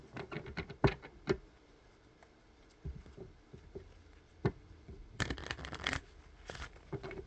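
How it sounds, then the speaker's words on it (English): Cards are shuffled with soft riffling and tapping, a burst of quick flutters near the end, quiet and close with no speech. "I'm going to be giving this deck one more good shuffle"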